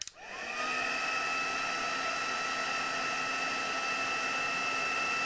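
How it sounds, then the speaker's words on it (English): A heat gun blows steadily on wet paint on a papercraft embossing project, a loud continuous whooshing roar with a fan whine that starts abruptly and runs unbroken, with no talk over it. "I'm going to take a heat gun to it just to dry off the worst"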